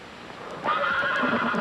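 A hired horse whinnies once, close and loud, its neigh rising and then wavering over about a second.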